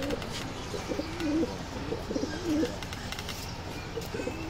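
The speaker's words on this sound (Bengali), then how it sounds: "কবুতরগুলো দেখছি আমরা একটু ছেড়ে, মাশাআল্লাহ most colourful pair in BD, most expensive pigeon." A colourful, expensive Military pigeon pair in Bangladesh coos. Soft, repeated throaty coos come in short bursts over a low background hum, with no talking.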